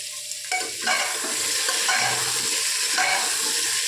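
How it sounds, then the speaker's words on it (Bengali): Papaya and potato pieces fry in oil for a thin chicken curry. A close, steady sizzle runs under frequent scraping stir strokes against the pan. "এবার পেঁপে আর আলুগুলো এই তেলের মধ্যে হালকা একটু লাল করে একটু ভেজে নেব।"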